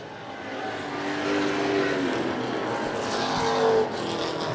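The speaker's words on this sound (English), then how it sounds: "Landon Tapley, they've got a motor held together with Band-Aids and bubble gum, and it sounds like things are starting to go a little bit sour on that car." A race car with a worn, failing motor roars past on a racing oval, a loud continuous engine drone that swells slightly toward the end before easing off.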